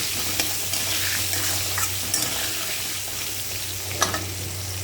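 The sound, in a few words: stirring potatoes frying with turmeric and salt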